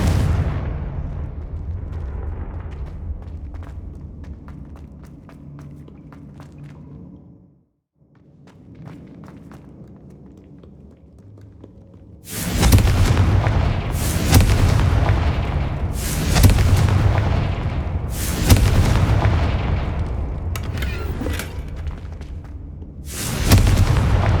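Confringo fire spells in the Hogwarts Legacy video game set off a run of heavy booming explosions, loud and close, each with a rumbling tail, repeating rapidly after a quieter stretch of rumbling ambience.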